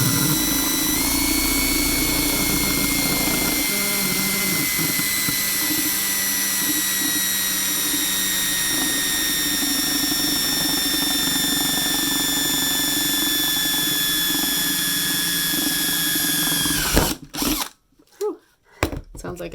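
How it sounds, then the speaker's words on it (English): A power drill bores through plastic on a toy box dice roller build, its high motor whine running loud and steady for about seventeen seconds before cutting off abruptly, followed by a few brief clunks. "be careful, the drills like to run away a little bit on the plastic until they get a good grip"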